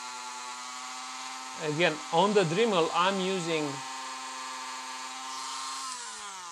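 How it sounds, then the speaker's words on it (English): Steady high whine of a Dremel rotary tool with a soft cloth pad polishing a scratched 360 camera lens, running continuously while a person speaks briefly over it, its pitch dropping slightly near the end. "just a bit more with the Dremel"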